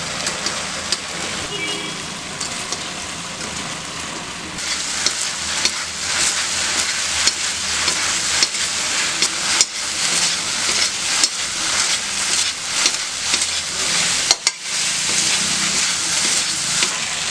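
Fried vegetable balls go into a hot Manchurian sauce in a pan for cabbage Manchurian, and a loud, continuous close sizzle follows, broken by brief clatters of stirring.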